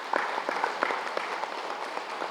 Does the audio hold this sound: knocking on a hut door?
no